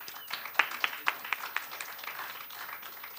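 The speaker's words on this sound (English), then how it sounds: "I don't think you should be applauding us." Light applause from the audience at a nanoscience summer institute's final presentations, a handful of distinct claps over a soft steady patter, fairly quiet and distant.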